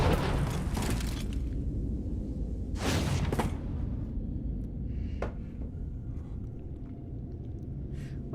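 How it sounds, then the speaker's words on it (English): Missile salvos exploding in Star Wars: The Old Republic, with heavy booming blasts and crackling bursts, one large detonation near the start and another about three seconds in, followed by smaller pops and whooshes. "the mercenary dispatches missile salvos and incendiary ordnances to utterly decimate their foes"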